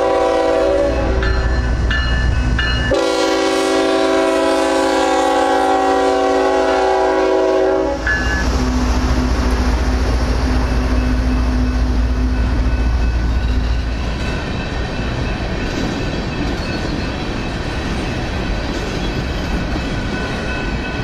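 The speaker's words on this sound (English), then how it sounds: "The train is running in a 1x1 configuration with a single CSX unit at the head and a CPGE cut in mid-train." A freight train passes with a single CSX locomotive leading and a mid-train CP cut around Davenport, Iowa, sounding its horn in long loud blasts before a continuous rumble of rolling wagons takes over, steady and close.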